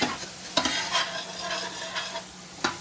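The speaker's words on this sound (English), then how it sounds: "we got our onions and we have our garlic in the pan" Onions and garlic fry in a pan with a soft sizzle, broken by a few scraping stirs of a utensil, quiet and close.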